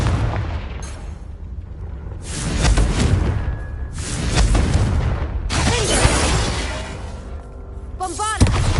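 Confringo fire spells and Bombarda blasts detonate in Hogwarts Legacy: several heavy explosive booms in close succession, each a loud crackling burst with rumbling tails, separated by brief quieter gaps and ending in a sharp final impact.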